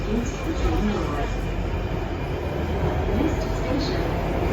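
An SMRT Alstom Metropolis C830 metro train rumbles along the track from inside the carriage, with a steady loud roar, faint wheel squeals and passengers chattering in the background.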